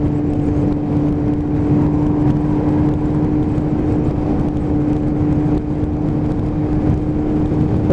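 Kawasaki ZX7R sport motorcycle cruising with a group ride, a steady droning engine note with a constant whine, close and loud, with wind rush and no talking.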